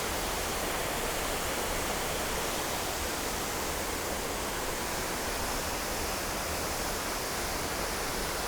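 Steady, loud broadband rush of a waterfall, a continuous hissing roar without breaks or voices.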